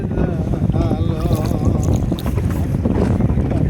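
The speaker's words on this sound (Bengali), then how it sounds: "এই যে আরেক কাকায় কি স্পিডে নৌকা বাই আসতেছে।" A boat speeds toward the listener on the Meghna river at high tide, with a strong current running. It makes a loud, steady rushing drone mixed with wind buffeting, and a faint voice surfaces briefly.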